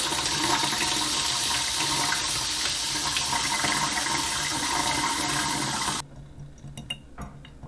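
Water rushes steadily through a newly installed kitchen faucet line to purge air, a loud continuous hiss and splash for about six seconds before it cuts off, leaving light clinks afterward.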